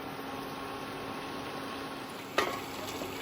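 Mutton curry simmering covered on a low flame in a Bengali home kitchen, a steady soft sizzle and bubble, with one brief clatter near the end.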